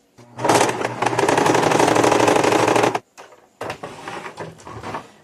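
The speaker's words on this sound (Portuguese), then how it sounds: "vamos fazer uma costura reta aqui" A domestic sewing machine runs a straight seam on fabric in two close, loud bursts of rapid mechanical stitching, a long run then a brief pause and a shorter, uneven second run.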